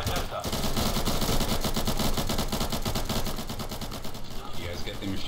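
Sustained rapid machine gun fire in the tactical shooter game Insurgency, loud and continuous with dense overlapping bursts for nearly the whole stretch, voices talking faintly underneath.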